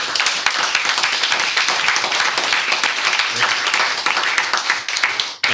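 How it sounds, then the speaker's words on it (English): An audience claps after a workplace presentation, with a sustained, loud round of individual claps and faint voices mixed in, ending abruptly. "let's give him a round of applause"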